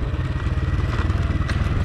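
A motorcycle rides along a narrow mountain road of tight hairpin bends in Quang Tri, Vietnam, its engine a steady, close, low throbbing drone with rattling and clatter and no voices.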